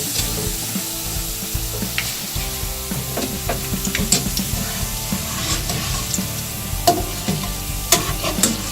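Boondi for ladoo fry in hot oil, a dense crackling sizzle under repeated scraping and stirring clatter from a ladle against the pan, fairly close and continuous.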